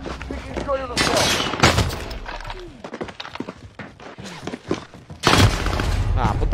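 Rapid bursts of gunfire in an online shooter video game, loud cracking volleys at the start and again near the end, separated by a stretch of scattered sharper sounds.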